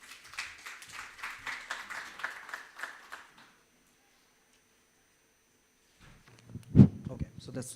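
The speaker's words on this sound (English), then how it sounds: "So please give a round of applause for our panelists here." Applause for panelists at a health summit session, a few seconds of steady clapping from a modest audience that stops abruptly, followed by silence and then a brief thump and voice.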